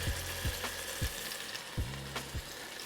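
Beef chunks searing in a stew pot, a faint steady sizzle broken by a few low thumps and scrapes from turning the meat, no voices.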